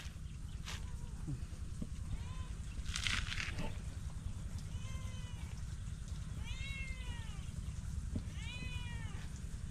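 Several cat meows, a couple of them drawn out, repeat at intervals over a steady low background hum.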